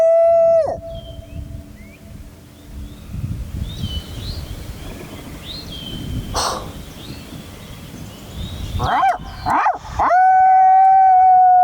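A long, wolf-like howl sounds from woodland with planted pines during a turkey hunt. It is a drawn-out tone that falls in pitch at the start, returns at the end, and has scattered crow caws in between.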